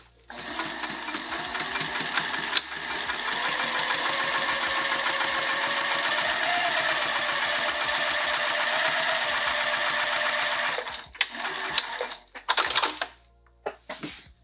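A sewing machine stitches a pattern piece shut in one long steady run of rapid mechanical clatter, close and loud, then stops with a few short bursts of stitching and handling near the end.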